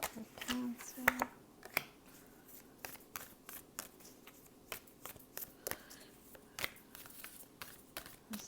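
A Mother Peace tarot deck being shuffled by hand, soft irregular riffles and card slaps repeating throughout, close and quiet, with light speech in the background.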